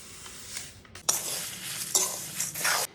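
White and black sesame seeds with chana dal dry-roasting in a pan for idli dosa podi, a steady gritty rattle and scrape as a spoon stirs them, with a few louder sweeping strokes, no talk.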